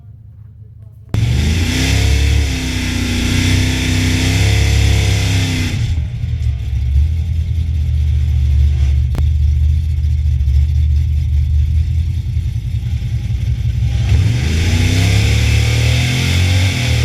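A Chevy S10's carbureted engine at a drag strip idles, then revs hard for several seconds and settles into a loud, steady drone before revving again near the end.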